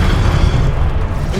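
A fire spell blast in the wizarding video game Hogwarts Legacy, a loud, dense rumbling whoosh of flame that fills the whole short moment without a break.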